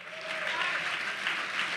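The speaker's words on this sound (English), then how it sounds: "Let's give them a round of applause as well." Convention audience applauds veteran spouses and parents, a brief, steady wash of clapping heard at moderate distance with a faint tonal element underneath.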